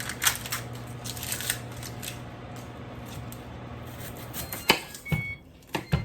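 A knife cuts an onion with a series of irregular crisp snips and taps, fairly close and quiet over a low background hum, with a sharper crunch near the end.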